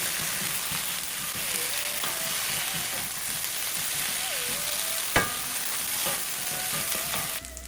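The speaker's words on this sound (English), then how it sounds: "Stir fry for a minute." Lotus root and vegetables are stir-fried with garlic, ginger and scallions, producing a steady dense sizzle with intermittent stirring scrapes and one sharp clack of a utensil against the pan. No one speaks.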